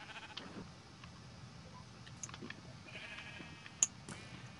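Sheep bleat in a modded Minecraft game server, a few soft, low-level calls over a quiet background with one brief sharp click near the end; no talking.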